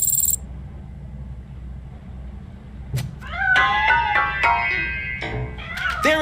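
A cat in the video game Robocop: Rogue City meows several times, with a few bright, wavering cries that follow a short silence and a sharp click, heard close over a low steady hum.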